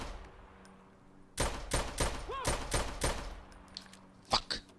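Gunfire in the video game Watch Dogs: several sharp bursts of rapid shots in quick succession, loud and close, with a quieter background before the volley and a final isolated shot near the end.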